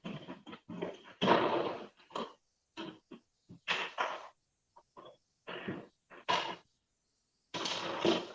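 Several dogs barking indoors, a series of close, loud, uneven barks and yelps separated by brief silences.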